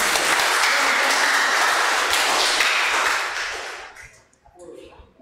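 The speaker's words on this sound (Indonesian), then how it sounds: "Tepuk tangan dulu." A church congregation at a Toraja worship service claps loudly in a full, even burst of applause that fades out after about four seconds, leaving faint room sounds and a few voices.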